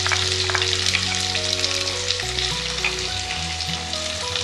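Chopped onion sizzles loudly in hot oil in a pan while cabbage palya is being made, a continuous crackling fry with occasional stirring and a steady background hum.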